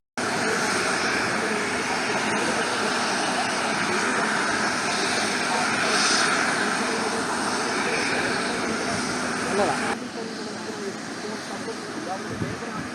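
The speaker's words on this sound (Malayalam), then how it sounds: "ആകാശ നിരീക്ഷണത്തിന് ശേഷം Kalpetta S K M J school ഗ്രൗണ്ടിലാണ് helicopter ഇറങ്ങിയത്" A helicopter flies overhead during an aerial survey of the landslide-hit Mundakkai and Chooralmala area in Wayanad, its engine and rotor noise a steady, loud broadband roar that drops and thins after about ten seconds.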